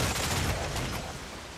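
Ship cannons in Assassin's Creed IV Black Flag fire in a heavy overlapping broadside, a loud dense boom that fades out over a couple of seconds.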